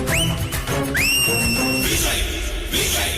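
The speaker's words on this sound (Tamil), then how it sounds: "அடிட விசில் விஜய்தானே முதல்வர்." Sharp rising whistles cut through a noisy crowd at a political rally, two clear whistle blasts near the start followed by a rough, shouting din.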